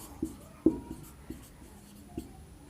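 Writing on a board records a statement about HCF and LCM during a Hindi maths lesson on real numbers. A few distinct taps and strokes sound close by at uneven intervals, with no clear talking over them.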